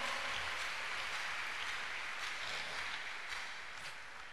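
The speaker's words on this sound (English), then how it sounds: "Clap unto God again." A church congregation claps hands to God in a dense, continuous round of applause that fades slightly toward the end, with no voices over it.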